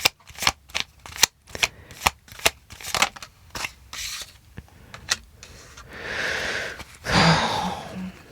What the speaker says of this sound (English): Let me just pull some cards.